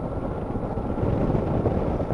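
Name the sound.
motor engine running at idle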